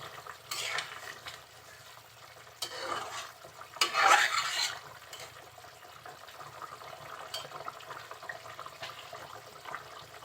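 Chicken curry made with packet masala cooks in a pan, a quiet background sizzle broken by a few bursts of scraping and clattering as the lid is lifted and the pot is stirred, with no talking.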